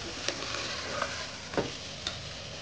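A spoon stirs Malvani chicken curry in a pan, giving a soft continuous sizzle with a few light scraping taps, moderately close and without voices.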